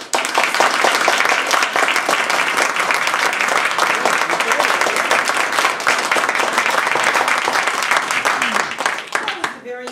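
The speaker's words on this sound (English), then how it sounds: "polite round of applause for them collecting the ballots" A polite round of applause at a Toastmasters table topics contest for the ballot collectors, steady clapping from a roomful of people, fairly loud and continuous before fading out at the end.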